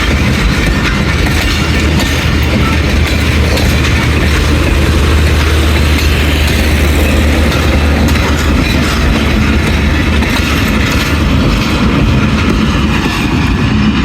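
The 13 Up Awam Express pulls out of Attock City Junction bound for Peshawar. A loud, steady rumble of rolling wheels and rail cars runs close by throughout, with a low engine drone beneath and no voices.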